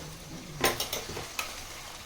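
Mutton fries with garlic paste and salt for biryani under a quiet sizzle, and a spoon stirs it with several short scraping clatters against the pan in the middle.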